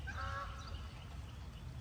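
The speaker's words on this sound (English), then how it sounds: "There are geese flying over my head." Geese honk overhead in a short cluster of calls early on, fairly faint against steady outdoor rumble in a home garden with raised beds.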